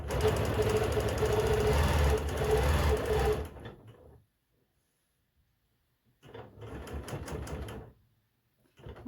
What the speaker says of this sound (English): double stitch over top of my previous stitching